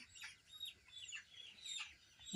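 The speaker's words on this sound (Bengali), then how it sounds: "দুইটা মুরগি ধরা হয়ে গিয়েছে আমরা" Broiler chickens of the colour bird breed cluck and squawk in short bursts while being caught by hand on a farm, with scattered high calls and some rustling at moderate distance.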